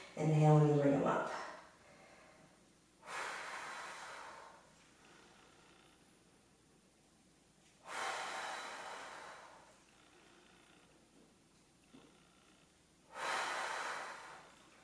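Heavy exercise breathing during a chest fly workout: a sharp, loud gasp at the start, then three strong, drawn-out exhales roughly every five seconds, close and clear, with quiet pauses between.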